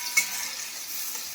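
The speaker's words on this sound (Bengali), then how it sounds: "এখানে আমার তেলটা দেখে কি সুন্দর ভাজা হচ্ছে" Spices such as dried chilli powder and salt fry in hot oil with a steady, soft, hissing sizzle and one brief sharper crackle near the start.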